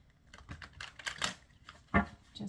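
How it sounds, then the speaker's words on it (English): A deck of tarot cards is shuffled in a few quick bursts, soft papery riffles and taps close by and quiet, with no talk. "I'm just going to give a couple shuffles for each one"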